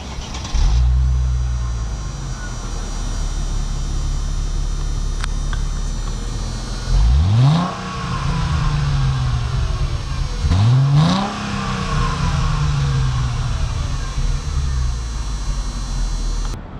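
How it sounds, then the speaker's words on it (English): A 2004 Chrysler Crossfire with a dual center-exit exhaust rumbles at a steady idle, with two sharp rev blips that rise and settle back into the low, continuous drone. "It has, you know, a decent little rumble to it."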